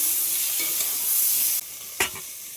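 Raw banana curry sizzles loudly in a pan as it is stirred. The hiss drops away sharply partway through, followed by a single close clank.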